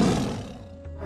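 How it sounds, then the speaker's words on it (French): A tiger's deep, rumbling roar fills the space, loud and close at the start and slowly fading as it echoes on, with no voices. "Ce rugissement résonna jusqu'au fond de tous les couloirs, de toutes les salles et de tous les coins du palais."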